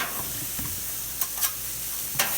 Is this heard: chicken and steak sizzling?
yes